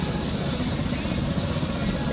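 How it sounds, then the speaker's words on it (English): A steady, loud video game helicopter rotor drone with a dense low thrum and broadband engine noise, continuous and unbroken throughout. "So here I have a helicopter"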